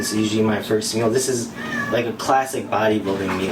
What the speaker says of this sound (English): Excuse my cat. My cat's acting a little crazy right now.